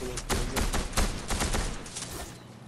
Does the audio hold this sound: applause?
no